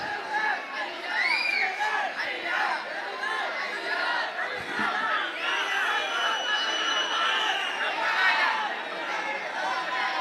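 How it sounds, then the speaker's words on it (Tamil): A crowd at a farmers' protest keeps up loud, overlapping shouting and chatter throughout, a dense continuous din of many voices with occasional whoops rising above it. "எதுக்கு கூச்சல் போடுறீங்க?"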